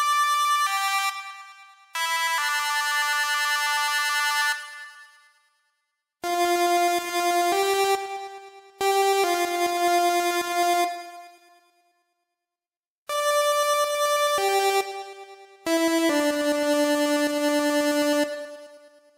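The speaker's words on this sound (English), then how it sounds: "That's how I came up with this melody and the 8-bit sound." An 8-bit synth lead melody built in Native Instruments Massive plays alone: bright, buzzy square-wave notes in short phrases, separated by brief gaps of silence.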